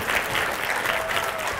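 Brief, steady applause from a lecture audience, loud and dense, with no talk over it.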